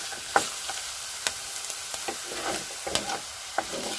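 Potatoes fry in oil in a pan with a steady close sizzle, while a spoon stirs and taps against the pan now and then in short scraping knocks.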